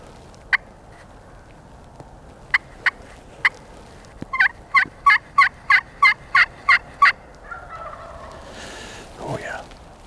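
Wild turkeys gobble in big timber on public land. A few sharp isolated calls come first, then a rapid string of about nine loud gobbling bursts, heard clearly over quiet outdoor background.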